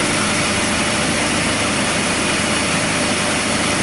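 A car engine idles steadily while the air-conditioning compressor kicks in during an A/C leak check, a dense continuous drone with a low rumble throughout and no break.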